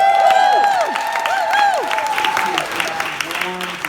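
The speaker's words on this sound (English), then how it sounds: "Applause." A New York TV talk-show studio audience claps and cheers, with high whoops and shouts rising over steady, lively applause that gradually thins.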